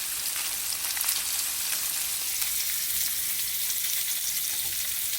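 Salmon searing in a hot pan with butter, a loud, dense, continuous sizzle and crackle close by, with no talking.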